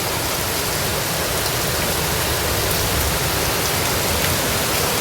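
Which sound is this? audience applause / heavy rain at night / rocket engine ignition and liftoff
heavy rain at night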